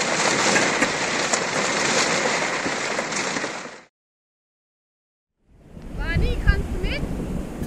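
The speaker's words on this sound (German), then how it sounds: "jetzt warten wir, dass hier das Gewitter losgeht, weil es bläst draußen wirklich unheimlich" Strong wind before a thunderstorm by the sea in Turkey roars and buffets the microphone in a steady rush, cuts to silence, then returns gusting with faint voices and high chirps underneath.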